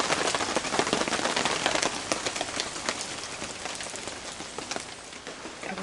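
Rain pattering densely and steadily on a tarp roof over a shelter with a porch, close and continuous with scattered louder drops tapping through the hiss, no voices.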